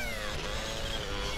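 Cat meow played as a sound effect during a spooky GTA San Andreas livestream, a brief drawn-out cry over dense background noise.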